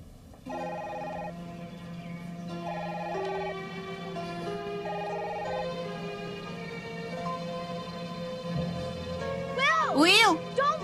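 A telephone rings repeatedly in a steady pattern of short tonal bursts, heard indoors at moderate volume, going on unanswered while people speak around it and a high sweeping warble sounds near the end.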